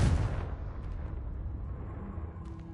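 A Confringo spell explodes in Hogwarts Legacy, one loud booming blast at the start that fades into a rumbling tail with faint debris ticks.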